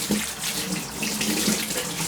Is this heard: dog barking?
no